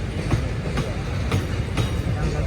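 Andaman Express 16031 passenger train rolling on rails near Hazrat Nizamuddin station, with a steady low rumble and a regular clickety-clack of wheels over rail joints, heard close from inside the coach.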